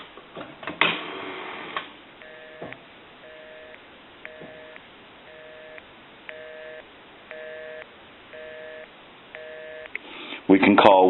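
A Northern Electric Galion rotary desk telephone handset carries a sequence of regularly spaced tones and clicks, with a loud clatter at the start and a burst of noise at the end.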